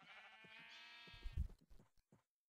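Sheep in a jungle-island survival video game bleat in a quick tremulous call, followed by a few short softer bleats and thumps, quiet and close.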